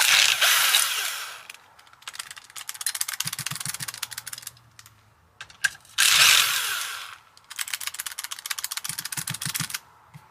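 An old-school Husqvarna 50 chainsaw runs loud and close, its engine revving in repeated high-pitched bursts with a rattling idle between them.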